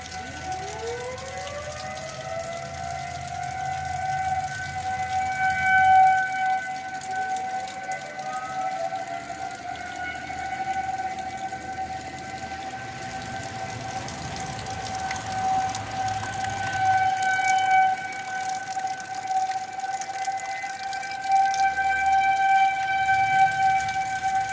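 Tornado warning civil defense sirens in Hutchinson, Kansas wail steadily in the distance, two rising tones winding up in turn and then holding a long sustained pitch with a faint background hum.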